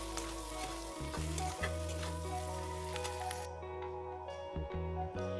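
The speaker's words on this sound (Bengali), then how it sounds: "আর ওইদিকে আরেক হাতে কিন্তু আমি ডিমটাকে উল্টে দিচ্ছি এবং ভালো করে কড়া করে ভেজে নেব" An egg sizzles and fries crisp in a hot pan after being flipped, a steady close, loud crackling fry running throughout with brief stirring and scraping touches.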